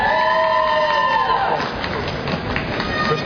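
A graduation ceremony crowd cheers for a graduate in a large hall. Loud, sustained whoops and shouts rise and then fade into a broad roar of applause and voices.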